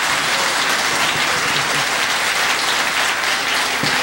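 A theatre audience at Teatro San Felipe breaks into steady, loud applause, a dense sustained roar of many hands clapping close and continuous throughout with no talking.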